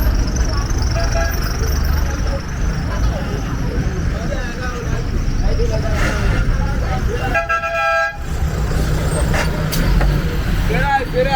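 Busy roadside traffic in Bingerville, Côte d'Ivoire: a steady roar of cars, buses and trucks with repeated horn toots and a longer honk, and people talking throughout.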